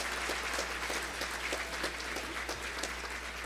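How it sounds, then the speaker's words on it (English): An audience at an awards luncheon claps together in a steady, even wash of applause, moderately distant and sustained throughout with no pauses. "So let's give that group a big hand of applause"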